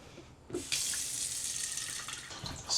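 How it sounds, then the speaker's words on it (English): Water gushing from an RV faucet as pressure is let off inside the camper, starting with a short sputter and then running in a steady, close stream into the sink. "I'm going to let some pressure off inside of the RV"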